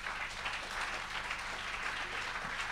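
An audience applauding Ange Minkala gives a dense, steady wash of clapping from many hands, fairly distant and even throughout, with no voices standing out.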